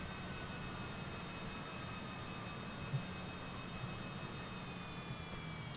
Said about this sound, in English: And right engine shut down.